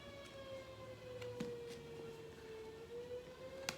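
A distant neighborhood siren wails with a slow, wavering tone, steady and moderately faint throughout, with occasional small knocks nearby.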